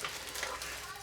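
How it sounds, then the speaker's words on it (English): Plantain stir-fries in a pan, giving off a steady close sizzle with faint crackles throughout and no voices. "I've got from Delphine, I'll be stir frying a little bit of this plantain"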